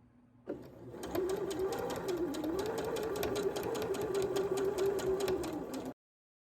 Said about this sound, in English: I am going to insert a casing or facing with this cotton tape